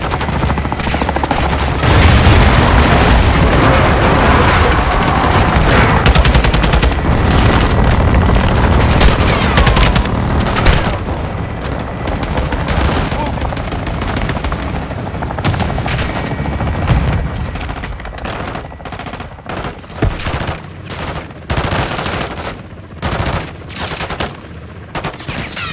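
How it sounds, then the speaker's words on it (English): Helicopter fire mission in the Call of Duty: Modern Warfare II campaign: loud, dense belt-fed gunfire and booming explosions roll continuously, then break into sharper, scattered bursts toward the end. "Soap, Bravo 6 standing by for fire mission."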